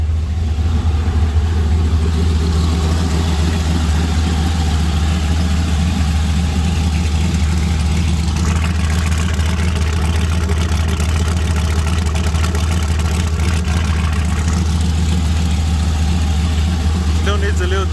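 A truck engine idles steadily and loudly with a constant low rumble throughout, while someone talks over it.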